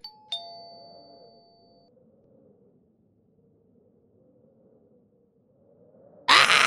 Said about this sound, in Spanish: Como siempre, tocamos el timbre